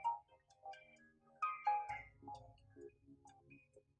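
A faint electronic ringtone plays a tinkling melody of quick, bright notes, quiet and steady with no talking.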